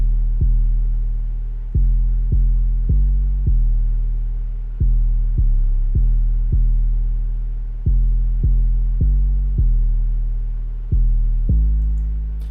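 Deep booming 808 sub-bass notes hit in a simple repeating pattern within a beat, each long tone decaying before the next, shifting pitch occasionally, with no voices.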